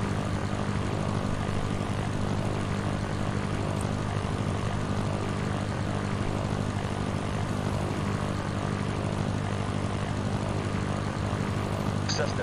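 A Cessna propeller engine in the Sierra Pro Pilot flight simulator game, a steady droning hum held at constant level for the whole stretch, with faint radio chatter mixed in.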